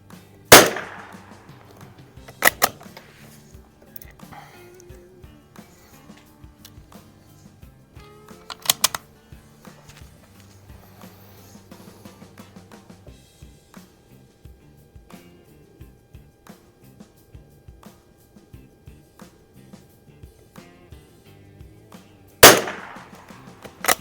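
Izhmash CM2 .22lr target rifle firing Eley sporting rifle ammunition, four sharp isolated shots spaced several seconds apart, with quiet clicks and handling of the bolt in between.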